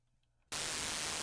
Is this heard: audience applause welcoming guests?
no